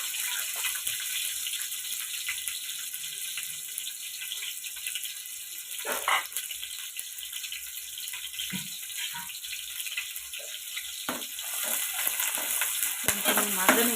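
Sliced onions and green chillies fry in hot oil in a pan with a steady, broad sizzle throughout, broken by occasional stirring scrapes and clinks.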